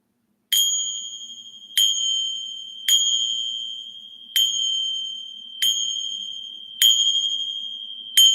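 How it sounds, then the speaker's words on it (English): Buddha bells made of seven metals are struck seven times at a slow, even pace. Each bright ding rings on clearly and fades before the next, with nothing else heard. "Let me ding my bells. I have Buddha bells."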